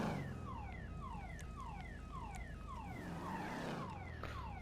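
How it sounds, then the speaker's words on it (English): Car alarm at the airport in GTA 5 Online, a repeating descending whoop pattern cycling steadily at moderate level over a low background rumble, no talk. "As soon as this car alarm shuts off, we'll begin the tour and have a look around"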